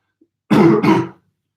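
One short, close throat-clearing cough in two quick pulses, then silence.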